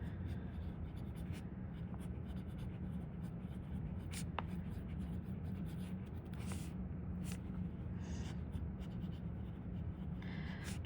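A TWSBI Eco fountain pen in Fluorite Purple writes across a paper page, giving a steady, faint scratching and shuffling texture with soft pen strokes throughout, close to the microphone, with no one talking.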